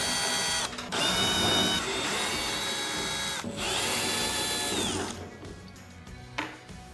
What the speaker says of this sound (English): there are 4 5/16 screws. 1, 2, 3, 4. We have to take them off